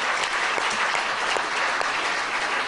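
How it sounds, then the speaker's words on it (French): A crowd at a Catholic healing retreat in Lyon claps steadily, a thick even wash of applause filling the whole stretch without any voices over it. "Let's give a big applause to that."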